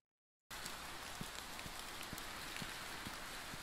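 Heavy rain pours down in the medieval survival game Medieval Dynasty, a steady dense hiss of falling water starting abruptly after a brief silence, with faint scattered knocks underneath.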